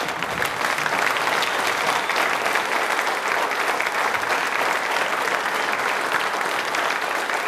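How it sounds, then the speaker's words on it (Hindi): Loud, dense audience applause at a televised Ambedkar Jayanti question-and-answer programme honouring Dr Bhimrao Ambedkar, a steady wash of many clapping hands held at even strength throughout with no voices over it. "जोरदार वाली तालियां बजाएंगे।"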